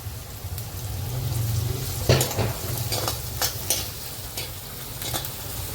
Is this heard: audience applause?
no